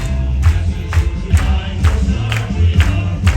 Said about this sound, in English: Everybody else, clap those hands.